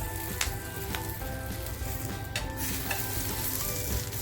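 Prawn egg roll frying in a pan, a steady close sizzle with scraping stirs and occasional clinks of a utensil against the pan throughout, no voices.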